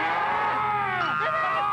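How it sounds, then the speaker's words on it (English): A cow mooing, one loud, drawn-out low call with a sliding pitch, close and steady under a constant background rumble. "A cow!"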